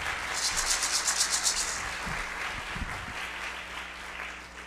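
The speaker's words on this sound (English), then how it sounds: "please give them a warm round of applause" Audience applause at an Indigenous Peoples summit afternoon panel, a steady mid-level wash of clapping that builds in pulses early on and then tapers into softer, thinner clapping with a few low thumps.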